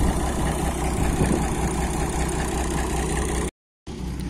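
A vintage Farmall 826 tractor engine idles with a steady, close, low rumble, cutting out briefly near the end before resuming.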